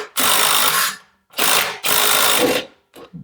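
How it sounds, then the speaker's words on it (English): A bolt being pulled out of a mechanism riding on a brass bushing: three bursts of loud, close mechanical scraping and grinding separated by brief pauses, then a short final rattle, with no talk. "I'm going to have Matt pull the bolt out of there so we can get a closer look."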